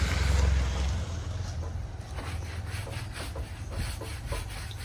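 A brush scrubs a shampooed vehicle during a service-station wash, making steady close rasping strokes over a constant low background hum.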